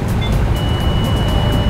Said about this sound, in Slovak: Niečo mi tu pípa